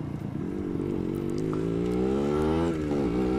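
Two-stroke Yamaha RD motorcycle engine running close by, a continuous raspy buzzing idle with slight rises and dips in revs, loud and alone.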